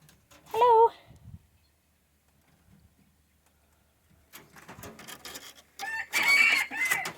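A lone rooster in a backyard pen alongside rabbits gives one short, loud crow near the start. Quiet follows, then rustling and handling noise build up, with some voices nearby.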